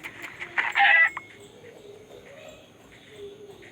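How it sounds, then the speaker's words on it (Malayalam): Chickens cluck in short bursts in a Minecraft-style survival video game, with a louder burst about a second in over a quiet background. "ഇവിടെ കോഴി മാത്രമേ ഉള്ളൂ."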